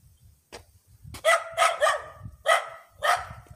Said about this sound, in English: Dog over there making a lot of noise, man.